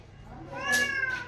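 A cat lets out one clear, drawn-out meow close by, rising and then trailing off.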